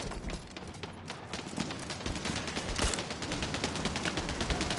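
Gunfire in the PSVR shooter Bravo Team after patch 1.02: a dense, steady clatter of rapid shots runs through the whole stretch at a constant level, with no voices over it.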